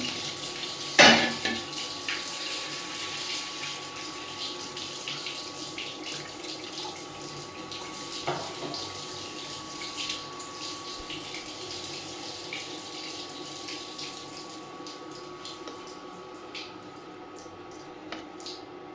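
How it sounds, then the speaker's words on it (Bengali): Water splashes into a cooking pot of rohu fish head curry in a brief pour near the start, then settles into a steady watery hiss with light metallic clinks of the pot. "পানি দিয়ে দেবো আমি"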